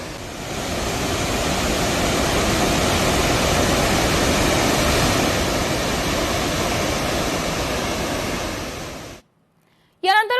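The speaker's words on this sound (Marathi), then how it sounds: "त्यातून गिरणा नदीत 4852 क्युसेक्स वेगाने पाण्याचा विसर्ग आहे।" Water discharging through the gates of Girna dam into the Girna river, a loud steady roar of rushing water that holds for about nine seconds and then stops abruptly, with a brief voice at the very end.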